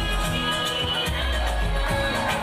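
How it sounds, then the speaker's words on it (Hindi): Large crowd at a Dahi Handi festival in Mumbai, a dense continuous murmur of many voices with rumbling background noise, loud and surrounding. "ये देखिए काफ़ी भीड़ बढ़ गई है, काफ़ी लोग हैं।"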